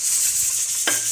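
Chicken masala roasting in a pan gives a steady close sizzle, with a sharp scraping stir near the end, and no voices.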